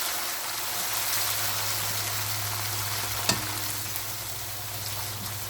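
A paste of one tomato and two or three green chilies sizzles steadily in a hot pan over medium heat while potato pulao is cooked, a continuous close frying hiss with one brief clack partway through.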